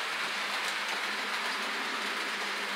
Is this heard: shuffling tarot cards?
no